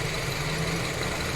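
A 2008 Honda CR-V engine idles with a steady low hum and even running, close by and alone, with no voices.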